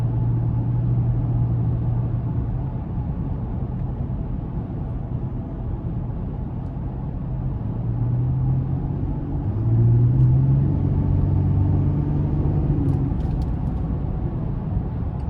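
A 2019 GMC Canyon Denali pickup's engine idles and revs gently with a steady low rumble, rising slightly in pitch and loudness midway before settling.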